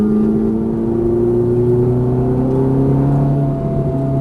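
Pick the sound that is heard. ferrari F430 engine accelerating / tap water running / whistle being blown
ferrari F430 engine accelerating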